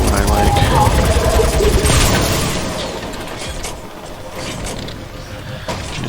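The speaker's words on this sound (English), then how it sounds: "His reload does take forever" Earl reloads his weapon in the video game Crucible: loud, continuous mechanical clicking and creaking for about six seconds over dense game noise, with a sharp click near the end.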